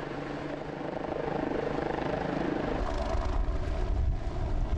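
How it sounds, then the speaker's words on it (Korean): A fire rescue helicopter flies close by, its rotor and engine a continuous loud throbbing roar that grows heavier and deeper in the second half, with no voices. "구조를 위한 최후의 수단 소방 헬기."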